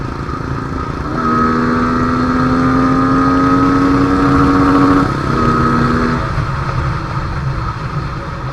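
Yamaha R15 V3 motorcycle engine revved up steadily, a loud sustained rising whine that holds for several seconds, dips, briefly climbs again, then falls back toward idle, close and alone.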